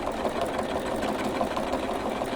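A sewing machine runs steadily, stitching a quarter-inch seam on a holiday bench pillow cover, its fast needle chatter continuous and close for the whole stretch with no voices.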